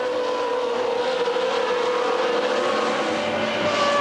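1980 Formula 1 race cars at Watkins Glen, including Nelson Piquet's number 5 car and Carlos Reutemann's car lapping slower cars. A loud, sustained high-pitched engine scream holds steady throughout with no talk.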